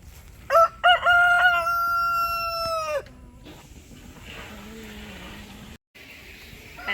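A rooster crows loudly nearby, a long strained call trailing off, followed by quieter outdoor background noise.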